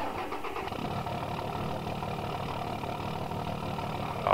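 A Dodge RAM 2500 Heavy Duty pickup in Farming Simulator 15 cranks and settles into a steady, throaty mid-pitched idle, the engine rumbling continuously and close, with a slight rise at the end.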